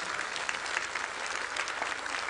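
A church congregation claps steadily together during a service, a dense, even wash of applause at moderate distance with no talking over it.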